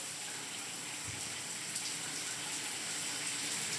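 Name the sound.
shower running hot water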